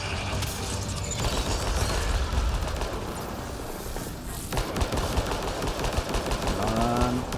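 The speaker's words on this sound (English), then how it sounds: "Again, it's shooting at me." Enemy gunfire in Mass Effect Andromeda, a dense continuous stream of rapid sci-fi weapon shots with booming impacts, loud and sustained throughout with little pause.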